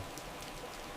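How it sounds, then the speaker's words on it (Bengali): Rain falling in an animated cartoon, a faint, even patter of drops with no other sounds over a short stretch. "বৃষ্টিতে দরজা খোলা রাখলাম"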